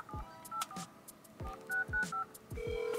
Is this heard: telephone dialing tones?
yes